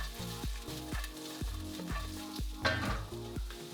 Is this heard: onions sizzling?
yes